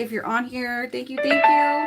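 A bright doorbell chime plays as an alert for a new order during a livestream, its ringing tones overlapping with someone speaking close by.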